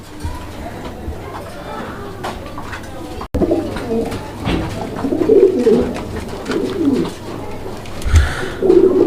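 Racing pigeons coo softly in a loft at a pigeon market, their low repeated calls sounding close by under ongoing talk and background bustle.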